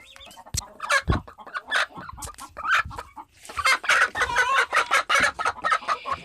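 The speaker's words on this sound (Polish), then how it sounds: "chyba kura nie zniosła jeszcze" A hen in a poultry coop clucks and cackles repeatedly, close and loud in uneven bursts, with other fowl calling around her.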